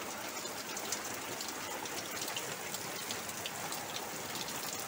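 Heavy rain pours down in a dense, steady hiss, constant and enveloping with no pauses, with water pouring off a roof onto a veranda.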